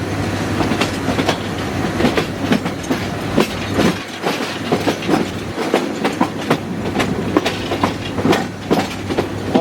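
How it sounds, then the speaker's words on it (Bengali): Tista Express hauled by a 2600 series locomotive changing tracks, a loud steady rumble with rapid rhythmic clickety-clack of wheels over the switches, close and continuous without talk. "এই লাইন যখন চেঞ্জ করে ট্র্যাক একটা ট্রেন, তখন সাউন্ডটা আপনাদের কেমন লাগে। 2600 সিরিজের লোকোমোটিভের আওয়াজ"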